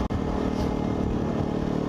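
A motorcycle engine accelerates with a steady, loud, rough drone that holds close throughout, with no talking.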